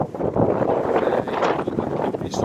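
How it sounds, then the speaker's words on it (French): Strong daily wind sweeps through the high Mustang valley of Nepal, buffeting the microphone in loud continuous gusts with no clear pauses. "le plein vent, le vent quotidien ici au Mustang"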